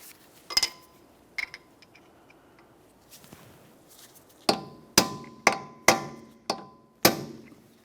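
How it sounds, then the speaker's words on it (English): Sharp metallic hammer-and-punch strikes ring out on the axle nut of a 2003-2007 Honda Accord, a couple of scattered taps first, then six firm blows at a steady pace, close by. "You have to use a hammer and punch and drive the axle nut down into this area."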